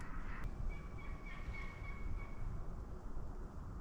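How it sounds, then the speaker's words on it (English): Wild turkeys gobbling out in the woods near a campsite, faint and distant over a steady broadband outdoor rumble, with a few short calls drifting in and out. "you can hear a few turkeys out in the woods"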